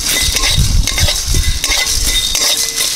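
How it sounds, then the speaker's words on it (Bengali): Whole spices such as cardamom, cloves, cinnamon, black pepper and carom seeds are dry-roasted in a pan, with close scraping and clinking of a spatula against the metal and a faint crackle. "সব মশলা শুকনো খোলায় ভেজে নেবো ভালো করে"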